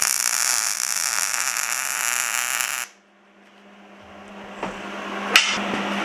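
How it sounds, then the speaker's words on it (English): An electric welder lays a small weld between an iron scroll and a bar at a blacksmith's bench, giving a loud, steady buzzing hiss that stops abruptly, then a quiet stretch with a couple of faint clicks. "Now I'm going to throw a little bit of weld right here between the scroll and the bar."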